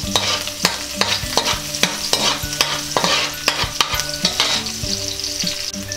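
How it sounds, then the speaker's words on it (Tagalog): Garlic sizzles loudly in a hot pan while a utensil stirs it, sharp scraping taps recurring about twice a second over a constant crackling fry, with no talking. "Tapos po ilagay natin yung garlic. Hahaluin lang po natin tong ating bawang."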